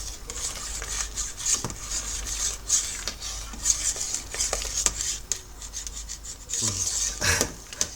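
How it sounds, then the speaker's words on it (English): Chocolate and vanilla stout wort is stirred vigorously in a pot, a continuous close rasping and scraping with a steady back-and-forth rhythm and the odd knock against the pot. "Give it a good stir."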